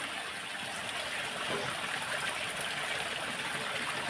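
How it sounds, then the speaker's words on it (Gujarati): A forest stream flows in a steady, even rush of water, constant and moderately loud, with no voices over it. "પાણીનો અવાજ સાંભળવો છે ગાઈસ"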